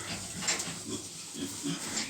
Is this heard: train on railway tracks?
no